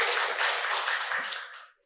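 A congregation claps together in a church, a dense burst of many hands that holds steady, then thins and fades out after under two seconds.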